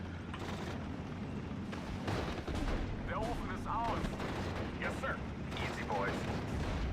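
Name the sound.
PIAT anti-tank weapon firing in video game Steel Division: Normandy 44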